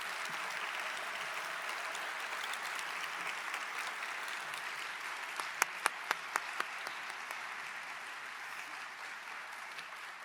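Steady audience applause welcoming guest lecturer Hamza Walker at the Burt and Deedee McMurtry Lecture, a dense, even clapping from a seated crowd with a few sharper individual claps standing out near the end.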